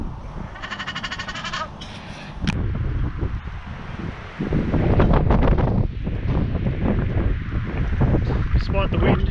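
Gusty wind at a lakeside carp-fishing spot on Lake Ginninderra in Canberra, buffeting the microphone in loud rumbling bursts, with a voice heard at moments.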